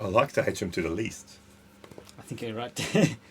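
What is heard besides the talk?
None of the usual background noises is heard.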